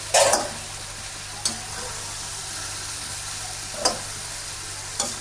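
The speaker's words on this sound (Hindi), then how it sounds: "हमारे मसाले इसमें आसानी से भुन जाते हैं" Spices frying in a pan for aloo gobi, with a steady low sizzle and a few sharp scraping stirs at intervals, close and fairly quiet.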